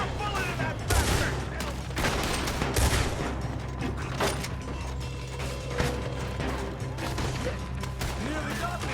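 Dense gunfire in a Red Dead Redemption 2 shootout at Clemens Point, with rapid overlapping shots and mechanical clacks of reloading under a busy, loud game mix.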